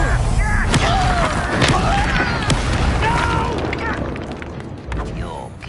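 Bombarda blasting spell in Hogwarts Legacy, heavy booming explosions and crackling impact bursts that come and go over a steady game soundscape, loud and close, with a voice speaking in between.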